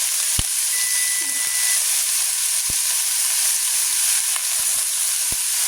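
Shrimp shells sizzling in a jambalaya pot, a bright steady frying hiss throughout, with a few sharp clicks and scrapes from stirring, close and loud with no talking.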